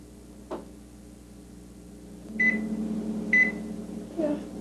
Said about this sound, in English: The beep of the microwave seems as constant as the ticking of a clock.